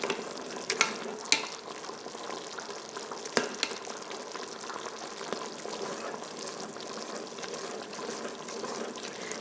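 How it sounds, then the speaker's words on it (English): Balsamic glaze simmering and thickening in an Instant Pot on saute mode, a steady soft bubbling hiss with a few sharper pops early on, continuous and fairly quiet throughout, no voices. "we're gonna let that thicken up into a nice glaze"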